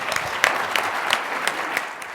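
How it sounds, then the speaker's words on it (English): An audience at a digital health summit applauds the panel, giving a brief burst of clapping heard from across the room, moderately loud and fairly even. "Would you round of applause for the panel,"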